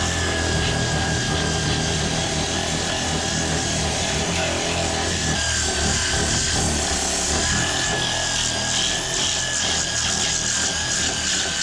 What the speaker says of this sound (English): And then I can grind the aft deck walls without getting dust all my lockers